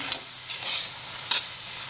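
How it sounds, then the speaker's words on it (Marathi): Black ghevda beans stirred while they dry roast on a flat griddle pan, three quick scraping strokes close by, with no voices. "1 मिनिटभर आपण छान तव्यात भाजून घेतलेले"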